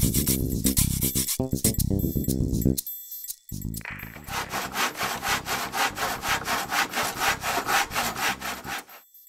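A Bosch PBD 40 benchtop drill press from the green hobby range runs close by: a bright motor whine with pulsing bursts, a brief pause, then a steady rhythmic grinding as it works.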